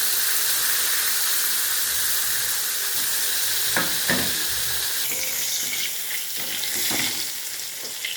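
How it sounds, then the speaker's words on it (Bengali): Small pieces of fish rubbed with salt and turmeric fry in mustard oil with a loud, continuous sizzle, broken by a few stirring scrapes and clinks near the pan. "নুন হলুদ মাখিয়ে এই সর্ষের তেলে ভেজে নিতে হবে। এইভাবে আমি সব মাছগুলোকে ভেজে নেব।"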